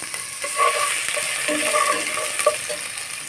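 Ginger garlic paste sizzles in a hot pan, a steady hiss of frying broken by clinks and scrapes of a spoon stirring, close and continuous.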